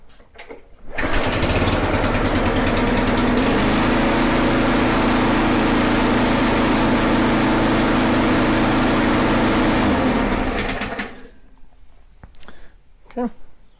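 A Yard Machine lawn mower engine, freshly valve-adjusted, is pulled and fires up cold on choke, then runs at a loud, steady drone for about ten seconds before cutting off, leaving quieter clicks and handling noises.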